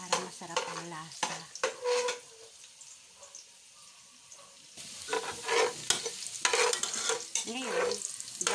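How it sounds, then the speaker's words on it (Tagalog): Chicken fries in a pan for lugaw, a busy sizzle broken by repeated scraping and stirring strokes, with a quieter stretch in the middle before the crackling and stirring pick up again. "Pag nag-dry na, saka natin ilagay yung chicken. Lutuin natin yung maigi para masarap ang lasa."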